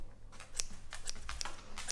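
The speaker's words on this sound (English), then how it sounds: "Nice sharp scissors." Several crisp, sharp scissor snips close by, trimming fur on a dog's feet and lower legs, coming in a loose, irregular rhythm over soft background hiss.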